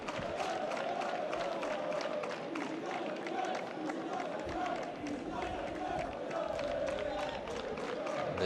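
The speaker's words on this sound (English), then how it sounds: "The Girona fans who have come here at Lezama cheering now their team after that first dangerous chance they've had" Girona fans cheer and chant as a steady, dense crowd roar in the stadium at Lezama during the SD Amorebieta against Girona FC football match, with a commentator talking over it.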